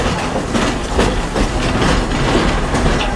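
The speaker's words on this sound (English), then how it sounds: "thanks for traveling with us on the Walt Disney World Railroad" Walt Disney World Railroad train rolls along with a loud, steady rumble and rhythmic clickety-clack of wheels over rail joints, no voices over it.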